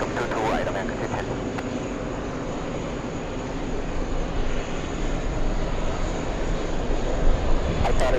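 A VistaJet executive jet taxiing at an airport, a steady close engine rumble and whine throughout, with voices audible underneath.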